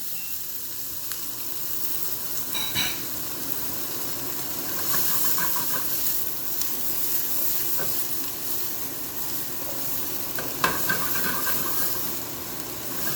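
Onions sauté and caramelize in a pan on low heat, giving a steady soft sizzle and hiss, with scattered clinks and light stirring scrapes and no talking.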